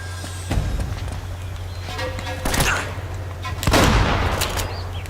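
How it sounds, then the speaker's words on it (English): Shotgun blasts in the Uncharted video game, several loud booming shots spaced a second or so apart amid steady background game noise and movement. "Gotta love shotgun to the face."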